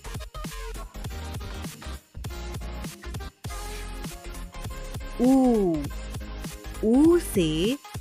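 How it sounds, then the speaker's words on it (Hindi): An owl's hoot comes twice, a pair of clear, warbling calls that rise and fall, close and loud, after a stretch of rhythmic background music. "उल्लू।"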